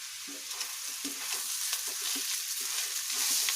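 Grated carrot for carrot barfi halwa frying in a large pan gives a constant bright sizzle, with quick, rhythmic stirring scrapes running beneath it, close up and steady throughout.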